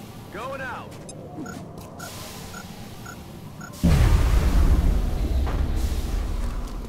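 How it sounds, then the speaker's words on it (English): A grenade goes off in XCOM Enemy Within, a loud, close boom that cuts in abruptly and rumbles on for several seconds after quieter game sounds and a few short beeps. "I'm gonna throw a grenade."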